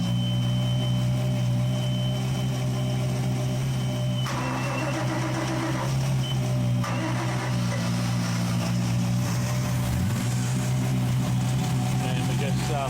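The starboard MerCruiser 5.7 V8 with Alpha One drive on a 1995 Silverton 310 Express boat runs in a steady, droning rumble, with a shift in tone partway through, while someone talks over it.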